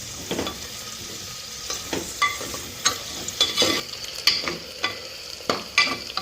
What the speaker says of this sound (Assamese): 10 মিনিটমান সময় অকণমান ভাজিব লাগিব।